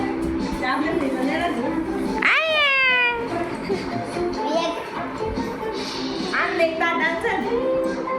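A cartoon cat meows in a rising, stretched cry over busy background chatter and children's voices, with a second shorter meow later.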